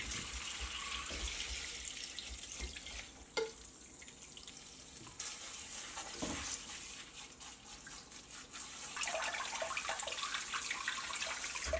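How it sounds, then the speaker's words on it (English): Soaked moong dal lentils rinsed under a running kitchen tap, a steady broadband rush of water with splashing and a few sharper knocks, close and continuous with no talking. "Now that the lentils have soaked overnight, I am giving them another quick rinse."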